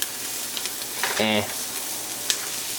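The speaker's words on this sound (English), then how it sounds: "what I do is cook this for another minute, let the garlic synchronize with the onions" Garlic and onions fry in a pan with a steady broadband sizzle; a brief voiced sound rises near the middle over the constant crackle.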